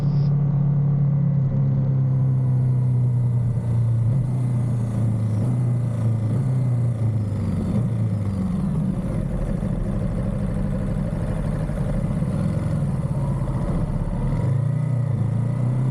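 A 2023 Ducati Monster 937 motorcycle ridden on a golf course road, its engine droning steadily with low rumble and shifting pitch, close and continuous with no talking.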